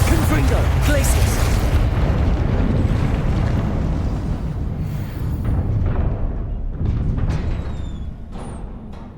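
Spell explosions in the Hogwarts Legacy video game, heavy continuous booms and roaring blasts with sharper bursts near the end, while a voice calls out spell names over the din.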